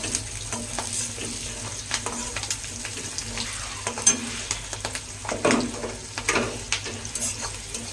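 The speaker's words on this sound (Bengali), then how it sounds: "পেঁয়াজটা দু চার মিনিট নাড়াচাড়া করবো" Onions sizzle steadily in hot oil while a spoon scrapes and stirs through them in irregular strokes, close and clear.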